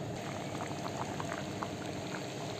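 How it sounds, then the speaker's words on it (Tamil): Mochai kottai kara kuzhambu, a spicy Tamil curry with hyacinth beans and sesame oil, bubbling at a steady rolling boil in a pot, with thick continuous gurgling and popping heard close up. "நல்லா கொதிக்குதுங்க."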